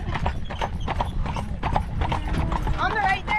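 A horse-drawn Amish buggy on a road in Intercourse, Pennsylvania, with rhythmic hoof clip-clops and a brief whinny, heard close beneath people talking.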